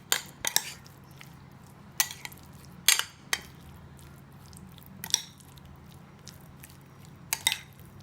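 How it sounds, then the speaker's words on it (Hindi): A spoon mixes one to two spoonfuls of curd with spices in a bowl for a chicken tikka kabab marinade, giving scattered, quiet clinks and scrapes at irregular intervals with no talking. "तो इसको हम मिलाते हैं पहले सारे मसालों को।"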